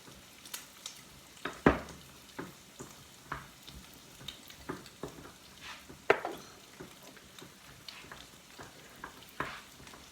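Ground meat for homemade enchiladas sizzles quietly in a pan, with soft crackling and occasional clicks and scrapes as it is stirred.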